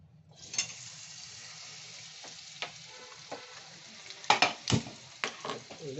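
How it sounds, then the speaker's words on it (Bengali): Corn kernels frying in hot oil give a steady low sizzle, then sharp pops and crackles burst out toward the end, close and fairly quiet. "আবার দিয়ে ঠিক এইভাবেই ভেজে নিতে হবে"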